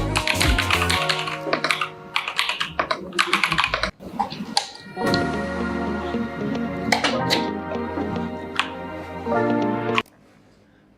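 Typing on a mechanical keyboard, loud close clacking in fast bursts and steady runs with a few short pauses, over a bed of background music, ending abruptly.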